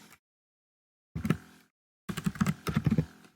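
Typing on a computer keyboard while entering abbreviations in an Excel spreadsheet: a short burst of key clicks, a pause, then a quicker run of close, crisp keystrokes.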